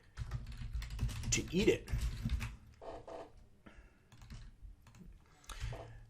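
Computer keyboard typing in quick bursts of clicks, close and moderately loud, interleaved with a person talking.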